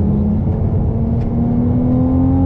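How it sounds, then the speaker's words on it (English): A Ferrari 296 GTB on the Sepang race track sustains a loud, steady engine drone with a slowly rising tone, close and continuous, with no talking. "the downshift is made uh, with the system to bring the perfect noise"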